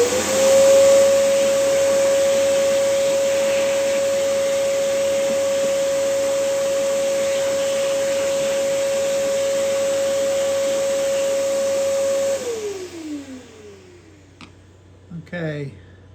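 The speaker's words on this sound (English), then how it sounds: "And I'm going to hit this with a vac." A shop vacuum runs in a luthier's workshop near a rosewood heelcap, a loud steady whine with a constant tone that drones for about twelve seconds, then winds down and falls quiet.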